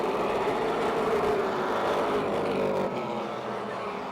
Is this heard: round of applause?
no